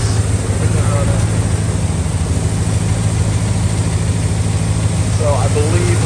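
Engine of a 1989 Chevrolet Suburban with a suspected bad alternator idling steadily, a low even rumble with a faint hum, while people talk briefly nearby.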